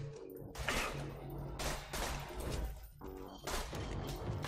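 Rapid bursts of gunfire from the player's gun in Borderlands 2, several loud close volleys separated by brief pauses.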